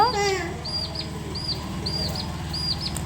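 A small chick kept at home peeps in a regular series of thin, high chirps, fairly faint, over a low background hum, with a brief voice at the start.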